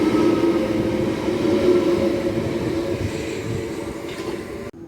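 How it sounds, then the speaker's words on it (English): A Southeastern train bound for Eltham pulls into Abbey Wood station, a steady close rumble of wheels and traction that holds loud throughout and eases slightly near the end, with no talk. "So watch this train coming in, the Southeastern service to Eltham"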